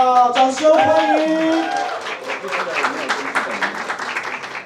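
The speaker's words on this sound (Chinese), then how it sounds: "掌声欢迎" An audience claps to welcome guests onto a stage at a film event, brisk applause mixed with a host's amplified talk and a few whoops, the clapping thinning out as it goes on.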